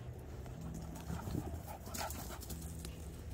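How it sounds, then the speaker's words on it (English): Puppies running around outdoors on a frosty autumn homestead, with quick scrambling paw patter and a brief burst of panting or yips near the middle, heard up close with no talking. "With zooming puppies."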